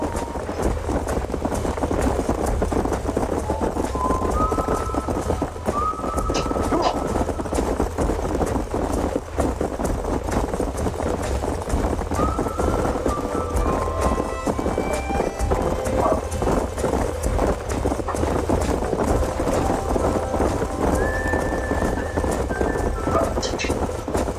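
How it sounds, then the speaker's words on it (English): Horses gallop in a quick, rhythmic clip-clop with occasional whinnies, set against a background soundscape in Red Dead Redemption. "These are fine horses."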